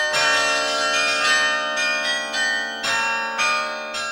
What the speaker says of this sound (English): Gerard de Wart is a famous player of the carillon.